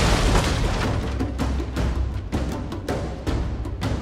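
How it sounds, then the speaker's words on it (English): Dense, continuous battle roar from the Medieval Kingdoms Total War 1212AD game, with repeated booming artillery and trebuchet impacts thudding through a loud, unbroken wash of noise. "Firing away at the trebuchet, and that one looked like it went right through this artillery unit."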